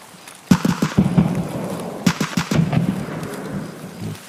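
Rain and thunder in the Escape from Tarkov game, with a steady wash of rainfall and several sharp cracks and booms in two clusters. No one speaks over it.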